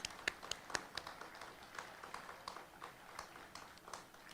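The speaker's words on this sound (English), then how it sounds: "Let's give our Silver Award winners a huge round of applause." Scattered clapping from a middle school awards audience honoring Silver Award students, faint and distant, with irregular individual claps rather than a dense roar.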